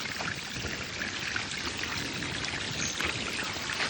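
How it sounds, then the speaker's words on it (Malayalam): Water flowing down a stone step beside a forest path in Japan, a steady close rushing pour that continues unbroken with no voices. "ഇവിടെ ഒരു സ്റ്റെപ്പിന്ന് വെള്ളം ഒഴുകി വരുന്നു"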